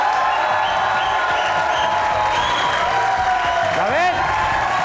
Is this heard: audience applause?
yes